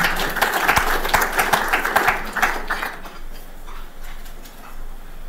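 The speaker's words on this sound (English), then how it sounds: "We could just give them a warm clap." An audience at a live event claps warmly for a few seconds, with scattered distinct hand claps that thin out and fade into quiet room noise.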